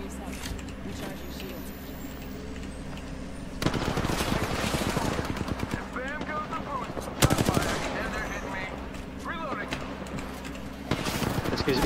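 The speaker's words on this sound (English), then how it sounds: "I shot him once" Rapid automatic gunfire in the Apex Legends Arenas mode rattles in bursts over continuous game background noise, with a few sharper volleys standing out, while players talk over the action.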